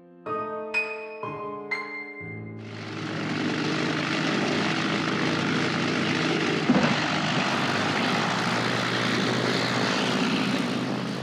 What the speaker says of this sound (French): la liaison aérienne entre la France et l'Angleterre s'est améliorée grâce à un avion, le Lysander, capable de décoller et d'atterrir sur un petit terrain